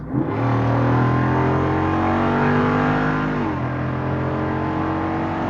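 A 2022 Jeep Wrangler Rubicon 392 V8 revs hard with its exhaust flaps open, a loud close roar that climbs steadily in pitch over several seconds, then eases slightly while continuing to drone.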